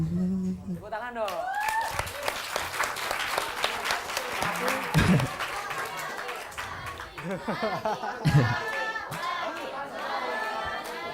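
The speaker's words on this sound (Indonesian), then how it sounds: "Tepuk tangan dong." An audience at a campus student orientation event claps and cheers after a song, the applause mixing with crowd chatter and a few voices speaking over it.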